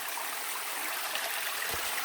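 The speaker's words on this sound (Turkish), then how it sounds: "Burası zaten ırmak." A river stream flows steadily with a soft continuous wash of water, fairly quiet and uniform, with a faint low thump near the end.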